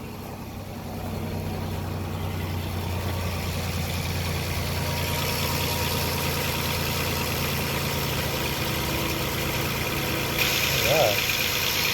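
A GM 3400 V6 car engine starts up and settles into a steady idle, a constant low hum running throughout with a brief brighter burst near the end.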